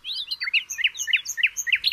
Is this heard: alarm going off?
no